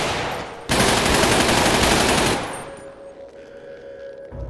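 Gunfire in a GTA 5 roleplay game, a loud continuous burst of automatic weapon fire lasting under two seconds, followed by a quieter lingering hum.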